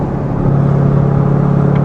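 A C8 Corvette with a full titanium exhaust idles with its free-flow bypass valve open, a steady deep low rumble that swells slightly and holds, close and loud with no talking.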